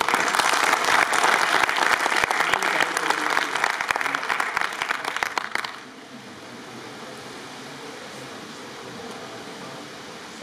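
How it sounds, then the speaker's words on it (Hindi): Dense audience applause at a poetry mushaira fills the first half, loud and crackling with many hands, then cuts off abruptly to a quiet room hum. "तालियां बजा"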